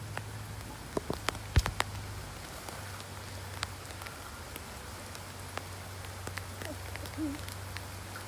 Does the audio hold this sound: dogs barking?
no